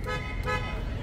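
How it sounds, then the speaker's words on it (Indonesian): A Deepal S07 car horn honks steadily for about a second, loud and close, with a brief dip partway through. "Untuk suara klakson"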